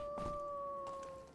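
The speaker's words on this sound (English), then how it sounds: "God, I hear the dogs." Dogs howl in the dungeon game Legend of Grimrock 2: a steady, sustained high tone that holds for over a second and then tapers, with a brief scuffling burst near the start.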